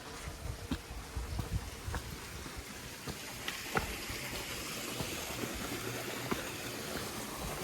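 Water flows steadily from a drinking-water spring in the hills on the trek to Kapuche glacier lake in Nepal, a continuous broad hiss and gurgle with a low rumble underneath and a few faint knocks.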